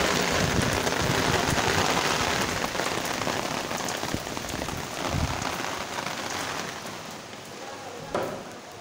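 Steady heavy rain falls outdoors at night near a church in Górsk, a dense continuous hiss of drops on surfaces, loud and close throughout with a few louder splashes.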